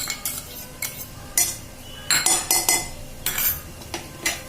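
A spoon scrapes and clinks against a pan while semolina and sugar are stirred, sharp irregular strokes coming in quick bursts at close range with no talking.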